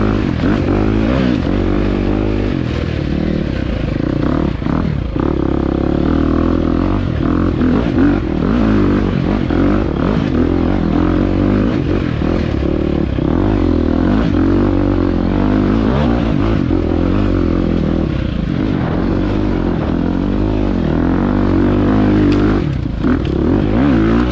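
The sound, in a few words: enduro dirt bike riding technical terrain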